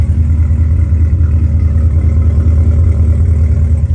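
A Cadillac CTS-V (2016 or later) with an EOS axle-back exhaust idles steadily, a loud, deep, continuous burble with slight lumpy pulsing and no voices.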